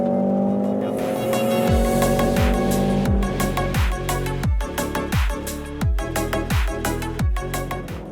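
A Mercedes-AMG GLC 43 SUV laps a racetrack, its engine revving hard through repeated upshifts with sharp pitch drops, a loud close-up rising and falling drone alongside tire noise.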